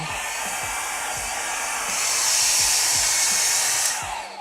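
Hair dryer blowing on freshly painted Warhammer 40k Dark Angels Nephilim Jetfighter miniature, a steady close whoosh that swells louder midway, with faint rhythmic clicks underneath.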